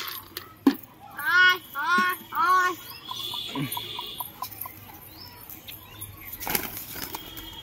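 Several bursts of wing flapping as pigeons take off close by, mixed with scattered knocks and some faint background chatter.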